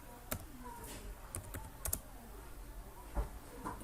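Typing an answer on a computer keyboard, a close, quiet run of irregular key clicks and taps with a few sharper strikes and short pauses between them.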